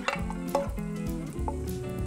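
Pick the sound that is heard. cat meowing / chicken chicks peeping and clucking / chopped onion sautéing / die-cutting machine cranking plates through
chopped onion sautéing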